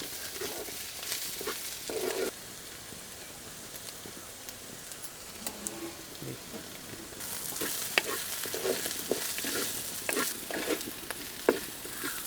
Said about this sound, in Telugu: ఇదంతా ఒకసారి కలుపుకుందాం అండి